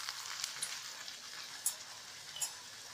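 Pooris drop into hot oil over a low flame, producing a soft, airy frying hiss with a few sharp crackles and pops, fairly quiet and without speech.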